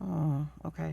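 A dog grunts and growls low indoors, a short rumbling groan followed by another, close by, while a person speaks briefly over it.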